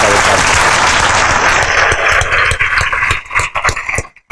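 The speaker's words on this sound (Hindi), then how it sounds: "तो जोर से ताली बजा के एक साथ।" An audience claps together loudly at a ceremony honoring UPSC toppers, dense applause that thins into scattered claps and fades out near the end.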